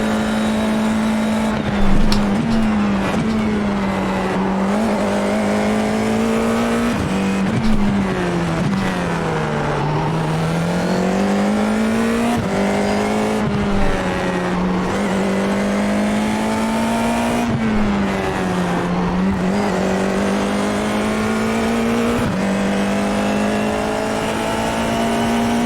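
Formula 4 iR-04 race car at Long Beach in the iRacing simulator, a loud, steady engine drone that rises and falls with gear changes and throttle, alone with no talk.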